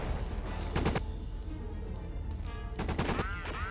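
Bursts of enemy gunfire in a Superman video game crackle in two rapid volleys over a low game backdrop, loud and close, with no talking.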